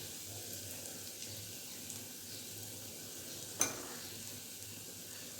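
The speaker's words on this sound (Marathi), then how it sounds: "छान असा मसाला चटणीमध्ये आता भाजून घेते." Chutney and masala spice mix frying in hot oil for Marathi amti dal, a steady soft sizzle close by with one brief sharp clink of stirring midway; no one talks.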